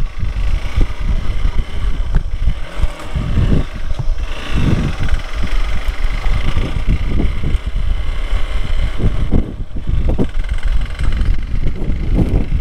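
Motorcycle engine on a mountain ride to Manang in Nepal, a loud continuous rumble with wind buffeting, steady throughout at close range.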